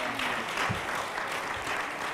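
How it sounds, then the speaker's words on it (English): Audience applause for panelists at a business event for minority entrepreneurs, a short, moderate burst of clapping from a seated crowd, with some voices mixed in. "Let's give our panelists a round of applause."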